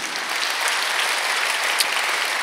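A congregation at a Sunday church service claps together in a dense, steady burst of applause, close and continuous with no speech over it.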